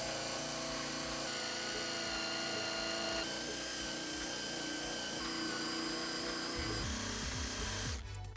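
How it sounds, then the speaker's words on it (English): A power drill with a rotary wire brush removing rust from an SUV part whirs steadily, rough grinding and scraping metal, loud and continuous throughout, with a brief rattle near the end. "I'll simply remove the rust using my rotary brush attached to my drill."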